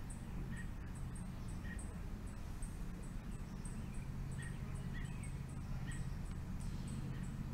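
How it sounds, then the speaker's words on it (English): Birds chirp outdoors in a quiet setting, small repeated tweets scattered through the clip over a steady low background hum, fairly faint and distant. "all I hear are birds right now."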